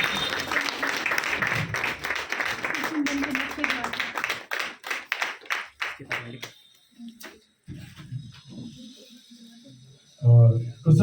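A group at an annual day celebration applauds guests being welcomed with flowers, dense clapping that thins into scattered individual claps, followed by a voice speaking near the end.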